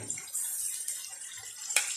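Reserved cooking water from mutton mince is poured into a pot of keema with peas and potatoes, a soft, continuous trickle and splash with a brief louder spatter near the end.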